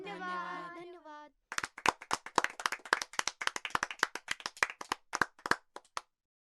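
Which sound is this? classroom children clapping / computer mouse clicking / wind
classroom children clapping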